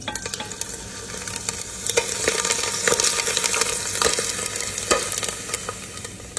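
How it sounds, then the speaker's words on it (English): Cornish hen skin crisps while frying in peanut oil, with more oil ladled in; a close, continuous crackling sizzle is scattered with sharp pops and stirring sounds. "Hear that sizzle, guys?"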